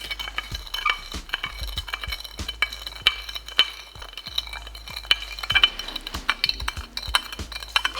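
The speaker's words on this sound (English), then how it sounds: "I am going to stir this one with a spoon that I can wash" A spoon stirs a gritty, sugar-heavy matcha drink in a cup, giving quick repeated clinks and scrapes against the sides in an uneven rhythm, close and moderately loud, with no talk.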